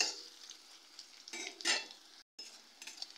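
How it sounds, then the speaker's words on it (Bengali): Vegetables stirred in hot oil in a pan for veg chowmein, a soft continuous sizzle with scraping spatula strokes and a brief gap, fairly quiet and without talking. "এগুলো দিয়ে হালকা নেড়ে চেড়ে নেব"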